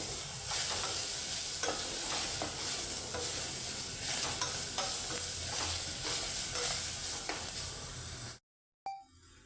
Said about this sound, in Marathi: आता हे चांगलं आपण परतून घेऊ, ते लगेच श्रिंक होते भाजी